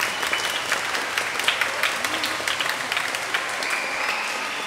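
Applause from a congregation at a Catholic Mass marking a priest's ordination anniversary, a steady dense patter of many hands filling a large room.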